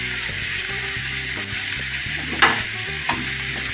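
Curry leaves fry in hot oil with a dense, continuous sizzle, and a spoon clinks and scrapes now and then as they are stirred.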